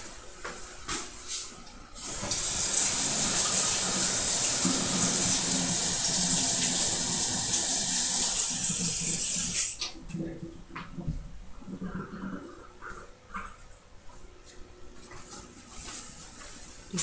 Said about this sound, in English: Just had to run it under some water to get the lid off.